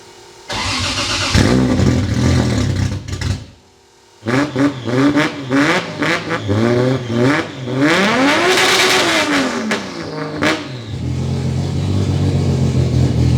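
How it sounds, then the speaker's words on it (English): A turbocharged 2J car engine revs hard several times with rising and falling whines, turbo whistle and whoosh between blips, close and loud. "You guys want to listen to the turbo noise?"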